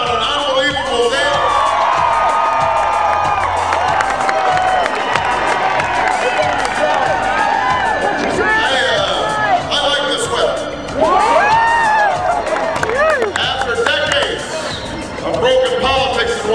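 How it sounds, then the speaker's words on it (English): A huge crowd at a Barack Obama campaign rally before the election roars and cheers continuously, with whoops, shouts and clapping layered into a loud, sustained wall of sound. "What an unbelievable crowd on an unbelievable day."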